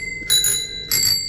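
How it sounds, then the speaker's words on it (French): Old bicycle bells, several of different diameters, rung as a display piece, give two bright metallic rings in quick succession, each a short burst with a lingering shimmer, close and fairly loud with no voices. "de faire chanter différentes sonnettes, d'accord, pour avoir des sons différents"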